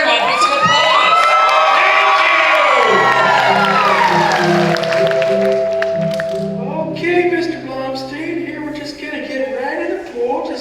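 A live audience at an improv puppet show at Knott's Scary Farm cheers, whoops and shouts loudly, with children's excited voices rising over the crowd. The noise stays dense and close throughout, then eases into scattered calls with some talk.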